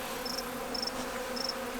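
Honey bees buzz steadily around a queen cage inside a hive during a new queen introduction, a dense close hum with a few brief higher whines rising over it.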